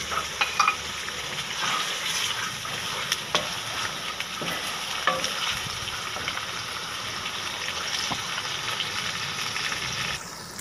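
Tomatoes and green chilies frying in a pan while being stirred for a masala dish, a steady close sizzle with scraping spoon clinks throughout, no talking.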